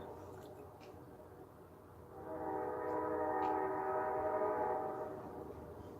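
A train passes, its horn sounding a sustained, fairly loud blast for a few seconds over a low background rumble.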